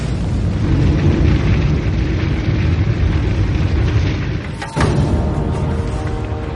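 A loud, sustained roaring rumble of large explosions, broad and continuous with a brief dip and a sharp burst partway through, representing nuclear bomb blasts striking a city.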